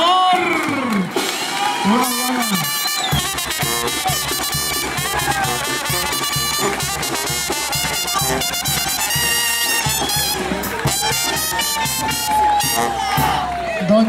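Crowd at a rodeo in Plazola, Jalisco cheering and whooping loudly while an announcer talks excitedly over a steady roar of voices and music.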